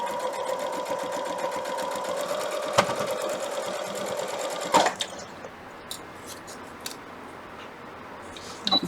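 A sewing machine stitches quilt fabric, running as a close, steady mechanical whir for under five seconds, then stopping with a clunk, followed by quieter scattered clicks and taps of the machine being handled.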